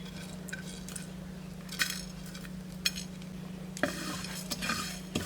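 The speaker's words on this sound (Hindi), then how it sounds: "एक फ्राई पैन में डालेंगे खुश्क धनिया साबुत, ज़ीरा, दालचीनी, बड़ी इलायची, बादियान, लौंग, काली मिर्च, ये भी इसी में डालेंगे।" Whole coriander, cumin, cinnamon, black cardamom, star anise, cloves and black pepper dry-roasting in a frying pan, stirred with a utensil that scrapes and clinks against the metal in several bursts over a faint low hum, close up.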